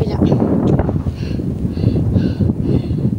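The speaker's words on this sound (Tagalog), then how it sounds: "Malakas ng hangin" Strong wind blusters across a mountainside on a Philippine climb up Mt. Paming, a steady loud roar buffeting the microphone throughout, with voices faintly mixed in.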